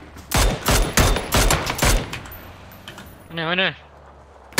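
Gunfire in PUBG: Battlegrounds, a rapid string of about six sharp, loud shots in quick succession, followed by a short spoken word.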